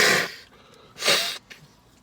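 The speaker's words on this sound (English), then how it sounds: "I gotta blow my fucking nose." A person blows their nose in two forceful bursts close by, followed by a shorter snuffle, with no talk.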